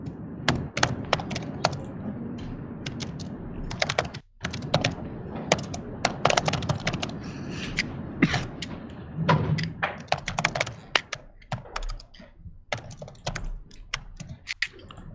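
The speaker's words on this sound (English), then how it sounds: "Is the typing pretty loud?" Fast, irregular typing on a computer keyboard fills the span, close and fairly loud, with bursts of clacking keystrokes separated by brief pauses and occasional heavier thumps.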